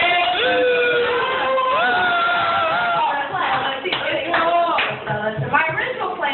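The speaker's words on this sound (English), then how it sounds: "Just give him a little quick round of applause." A comedy roast crowd gives a quick round of applause and cheering in honor of the guest, with loud clapping, whoops and shouts building over several seconds.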